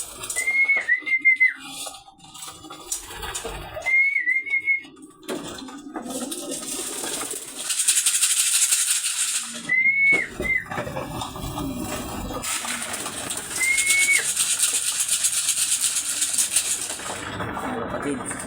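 Racing pigeons cooing and fluttering inside a loft during an afternoon feeding, with repeated whistled calls and rustling wings close by, while someone talks throughout.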